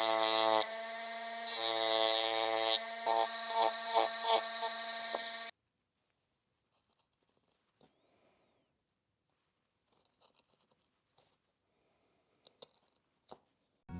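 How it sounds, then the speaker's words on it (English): A Dremel rotary tool cuts the middle out of a wooden tooth fairy box with a loud, close, steady whine for about five seconds, then stops. Only faint scattered taps and handling noises follow. "I'll take the middle out with the Dremel"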